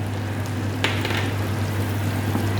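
Garlic fries in melted butter in a pan with a steady, close, even sizzle and a brief sharper crackle near the start.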